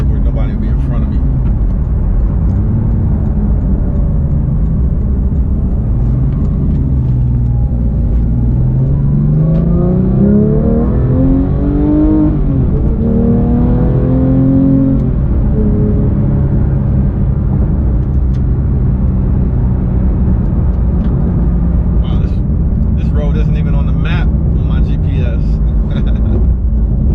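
A 2018 Porsche 911 GT3 with a manual gearbox being driven, its engine note climbing steadily in pitch as it accelerates midway, over a constant low road and cabin drone.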